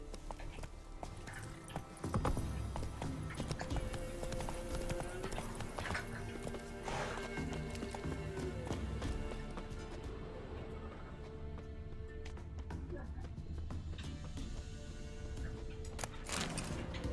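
Roach the horse galloping in The Witcher 3: Wild Hunt, rapid rhythmic hoofbeats drumming close and steady over game ambience, with a brief whinny.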